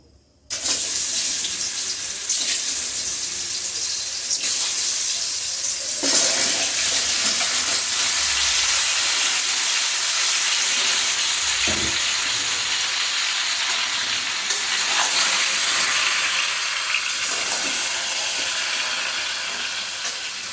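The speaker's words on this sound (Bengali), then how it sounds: "তেলটার মধ্যে পুরো আমগুলি তুলে দিচ্ছি।" Raw mangoes fry in oil seasoned with panch phoron, giving a loud, continuous hissing sizzle that follows a brief quiet start and carries on steadily with small crackles. There are no voices.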